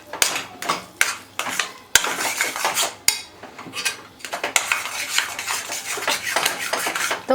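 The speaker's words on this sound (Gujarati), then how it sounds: "આપણે આવી રીતે ઘીમાં શક્કરિયાને શેકીશું" A utensil stirs grated sweet potato roasting in ghee in a pan for a sweet sheero. Close, rhythmic metallic scrapes and clatters repeat with a soft frying hiss, with no voices.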